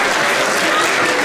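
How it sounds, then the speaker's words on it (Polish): Brief burst of audience applause at a prize draw, dense and loud, with no voices over it. "Brawa."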